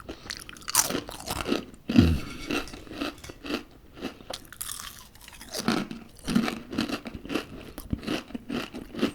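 Southern fried crisps eaten up close, giving sharp, loud crunches at the start followed by quieter chewing and occasional crisp snaps, with no talking.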